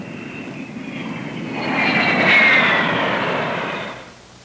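A Convair F-102 jet aircraft passes over a racing course, a broad roaring rush that swells to a peak midway, carries a faint high whine, then fades out.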